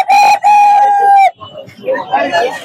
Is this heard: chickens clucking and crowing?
yes